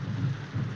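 Steady rain falls with a deep, rolling rumble of thunder beneath it, a continuous dense wash with no voices.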